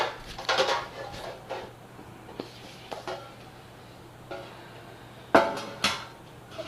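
Baking pans are handled in a home kitchen while making banana bread, with scattered metallic clanks and knocks, several sharp ones near the end, over a low steady hum.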